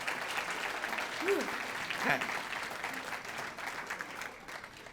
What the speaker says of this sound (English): you can clap, please clap for that